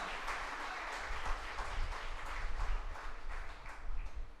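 A church congregation claps in thanks to God, a soft, steady patter of many hands at a distance, faint and continuous with a low room rumble beneath.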